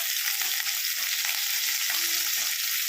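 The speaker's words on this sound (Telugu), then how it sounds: "పచ్చిమిర్చి వేసాను ఆనియన్ కొంచెం పుదీనా వేసుకున్నాను" Green chillies, onion and mint crackle and hiss in hot oil, a dense continuous sizzle close up with faint stirring scrapes and no talking.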